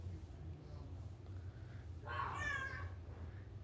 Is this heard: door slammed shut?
no